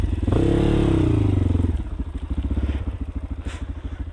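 A Crossfire 220 motorcycle rides off-road, its engine droning loudly up close before settling into a rapid, pulsing idle-like thump with clattering over rough ground.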